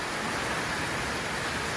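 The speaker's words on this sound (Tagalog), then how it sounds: "Biglang bumuhos ang ulan." Heavy rain pours down steadily, a dense, continuous hiss of water with no pauses and no voices.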